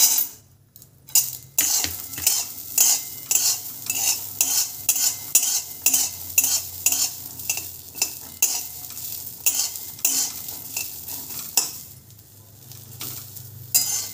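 Peanuts roast in a pan while a utensil stirs them, making rhythmic scraping and rattling strokes over a light sizzle, loud and close, with a short pause near the end.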